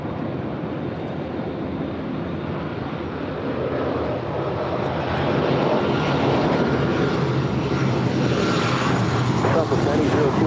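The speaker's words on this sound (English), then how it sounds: "Heading back to Copenhagen at A350-900 with the SAS Scandinavian rolling down" An SAS Airbus A350-900 rolls down runway 24 Left at LAX, a steady broadband jet roar that swells slightly midway, heard from a distance with radio voices talking over it.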